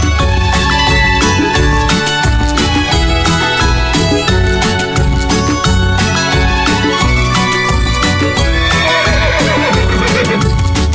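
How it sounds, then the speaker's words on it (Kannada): A horse's whinny rings out within a loud, busy Kannada children's rhyme, partly buried under the constant music and heard as a brief rising-and-falling call late in the passage. "ಕುದುರೆಯ ಓಡು ಓಡೋಡು"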